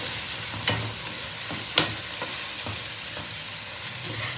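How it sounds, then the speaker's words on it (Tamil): A steady sizzle of tomatoes frying in a pan, with a few soft scraping strokes of a spoon stirring at irregular intervals, close and without talk. "இந்த சமயத்தில் வெட்டி வச்சுருக்க தக்காளியை போட்டுடலாம்"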